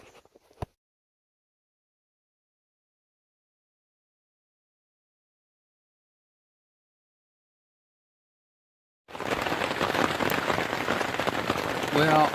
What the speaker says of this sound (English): It's pouring rain out there.